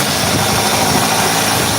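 A 9th-generation 2001-2008 Toyota Corolla Altis engine idles just after an oil change, a steady close mechanical hum with a faint ticking clatter and no voices.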